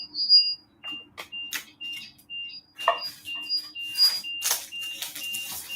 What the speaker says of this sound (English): Does sound like a timer.